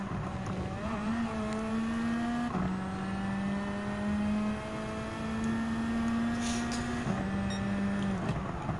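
A GT500 race car engine in Gran Turismo 7 drones steadily and loudly with strong harmonics, the pitch stepping down at gear shifts around three seconds and seven seconds, then climbing again, with no talk over it.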